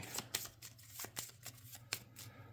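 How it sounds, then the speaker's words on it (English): A deck of cards is riffle shuffled at a tabletop board game session, producing a quick series of soft, close flutters and snaps. "I'm going to riffle shuffle this time"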